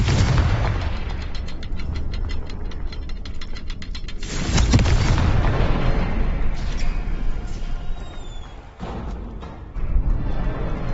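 In the Hogwarts Legacy video game, a Confringo blasting spell sets off loud, booming explosions, with several heavy bursts and rumbles in close succession.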